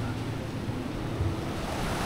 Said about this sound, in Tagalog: Ang lakas ng alon ngayon.